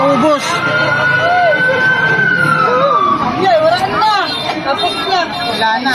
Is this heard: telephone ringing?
no